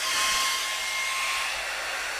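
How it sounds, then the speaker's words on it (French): A small handheld vacuum cleaner made for cameras, used while repairing a Canon 450D's shutter, gives a steady, continuous whirring hiss that holds at even loudness throughout with no talking. "moi je vais utiliser un petit aspirateur Canon, enfin un aspirateur prévu pour les appareils photo"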